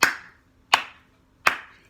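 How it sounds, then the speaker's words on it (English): Three loud, separate hand claps, spaced about three-quarters of a second apart, each a sharp close crack with a brief ring-off into near silence, made to mark sync points for multiple cameras. "I'm gonna ask that you clap"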